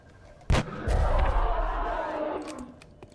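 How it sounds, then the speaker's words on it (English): A single sharp gunshot fired by a soldier in a turn-based alien combat video game, loud and close, followed by a swelling rumbling blast and crackling debris that fade over a couple of seconds. "We'll let Deadbolt try and take a shot here."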